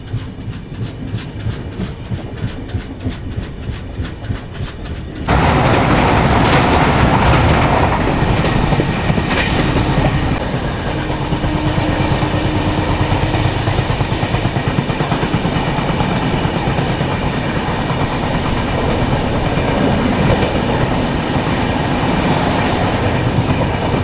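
Samata Express pulling away from Simhachalam station: a steady rumble with rhythmic clickety-clack, softer at first, then louder and fuller after a few seconds and holding there, close and continuous, with no talking.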